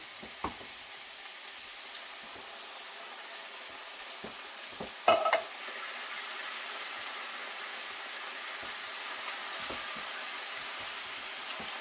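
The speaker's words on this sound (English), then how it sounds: "Get it all stirred up." Spoon stirring chopped fire-roasted tomatoes in a pot on the stove over a steady background hiss of gentle sizzling, with occasional soft scrapes and clinks against the pot, fairly quiet.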